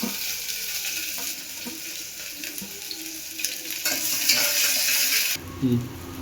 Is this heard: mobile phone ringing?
no